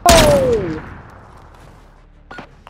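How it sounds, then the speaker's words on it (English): One loud pistol shot in Call of Duty: Modern Warfare, a sharp close crack that rings out and decays over about a second, followed by a faint, brief clatter near the end. "I shot the pistol"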